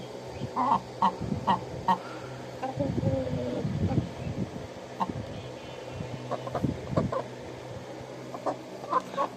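Brahma chickens kept for eggs cluck in short, scattered bursts close by, with a steady background hum under the calls and a person talking intermittently among them.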